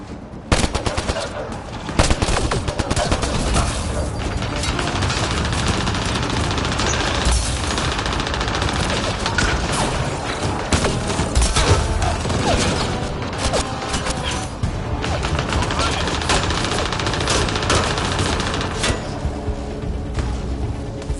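Sustained gunfire in the sci-fi shooter Mass Effect Andromeda: rapid automatic bursts and clattering weapon mechanisms roar continuously and loudly for the whole stretch, with scattered booms mixed in.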